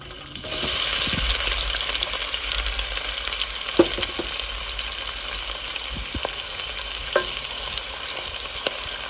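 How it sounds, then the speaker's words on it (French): Onions hitting hot oil in a pot for stewed potatoes, starting with a sudden loud sizzle that settles into a steady crackling fry, with a few utensil clicks, close and without speech. "Nous mettons l'huile. Nous allons y ajouter les oignons."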